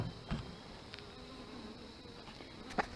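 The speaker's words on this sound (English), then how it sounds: "The bees are getting to work in there pretty good." Honey bees hum inside a horizontal wooden beehive, a soft continuous drone with a few closer individual buzzes passing the microphone.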